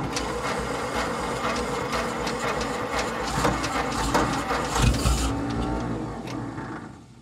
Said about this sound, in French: J'appuie sur le démarreur.